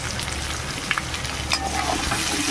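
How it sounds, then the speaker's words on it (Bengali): Onion, chili and crushed garlic frying together in hot oil give a steady, close sizzle, with a few soft scrapes of stirring breaking through. "পেঁয়াজ মরিচ আর রসুন একসঙ্গে ভালো করে ভাজতে হবে"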